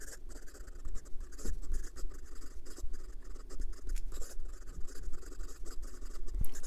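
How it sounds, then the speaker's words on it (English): Italian resin piston-filler fountain pen writing quickly on paper, close and continuous scratchy nib strokes with quick lifts and taps, no voices. "And some quick writing."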